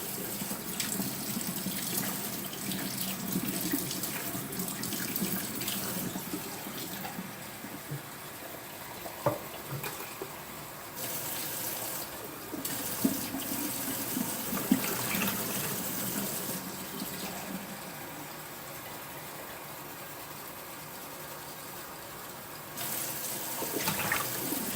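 Warm water runs steadily from a tap into a container to mix a vinegar cleaning solution for a vintage fly reel, a continuous close splashing flow with small clinks and shifts partway through.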